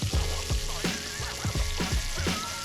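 Meatballs sizzle steadily in olive oil in a hot pan, with soft, regular thuds recurring every half second or so beneath the crackle.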